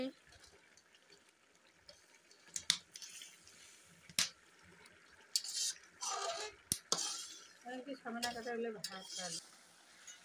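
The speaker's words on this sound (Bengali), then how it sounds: "এখন নেড়ে দিচ্ছি হালকা করে" Curry gently stirred in a pan, with soft scrapes, clinks of a utensil against metal and wet bubbling, quiet and intermittent.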